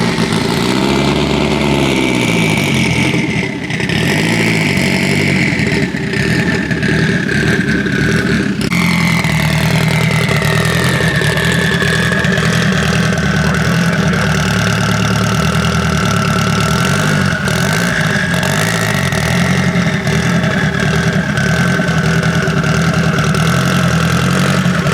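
A BMW engine idles steadily and loudly close by for the whole stretch, a continuous rumbling drone with a brief shift in pitch partway through and no talking over it.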